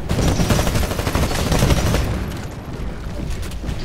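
Automated turrets firing at the Red Eye ship in Titanfall's IMC campaign, a loud, dense barrage of overlapping shots and thuds that eases slightly toward the end.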